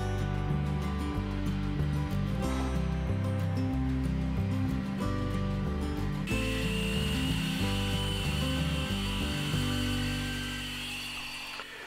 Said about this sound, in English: an Air 90 with a chainsaw wheel is the best and fastest way to remove a lot of material quickly